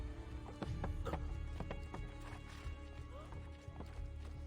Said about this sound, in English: Why did I get on the horse?